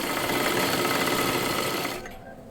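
Sewing machine running steadily as it stitches along the top edge of folded cloth, a loud continuous mechanical whirr that stops near the end, leaving quiet.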